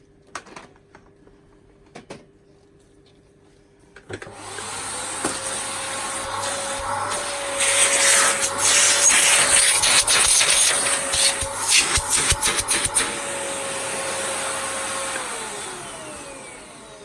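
A Nilfisk GM80 vacuum cleaner starts after a few soft knocks, its motor whining up into a loud, steady roar with rattling bursts in the middle, then settling and winding down near the end. No voices.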